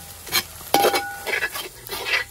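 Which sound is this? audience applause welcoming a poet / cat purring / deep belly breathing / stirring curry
stirring curry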